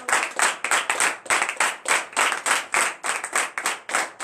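A congregation at a morning prayer service claps together in a fast, steady rhythm, loud sharp hand claps repeating evenly with no voices over them.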